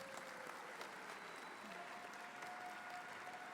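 A conference audience gives a morning round of applause for the band, a steady, fairly quiet patter of many hands heard from a distance, with a faint tone running through it.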